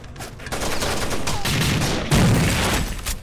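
Sustained bursts of automatic gunfire in the tactical shooter Rainbow Six Vegas 2, dense and continuous for the whole stretch, loudest near the end, with no voices over it.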